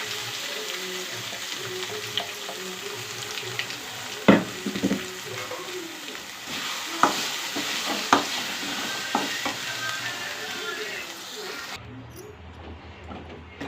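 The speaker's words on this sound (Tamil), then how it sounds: "கடுகு போட்டுக்கலாம். கருவேப்பிலை போட்டுக்கலாம்." Mustard seeds and curry leaves fry in hot oil as tempering for a drumstick seed chutney, giving a steady close sizzle with scattered sharp pops and stirring clatter before it cuts off abruptly near the end.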